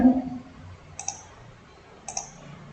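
Two sharp mouse clicks on an online registration form, about a second apart, crisp and close against a quiet room.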